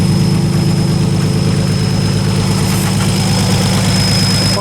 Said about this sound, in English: You can hear the power steering.